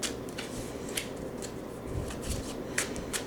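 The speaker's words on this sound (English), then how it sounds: "I think I'm going to shuffle a bit and then fan them and pull them." Tarot cards being shuffled by hand, a soft papery riffling with a few sharper snaps and flicks over about three seconds, close and quiet, with no voices.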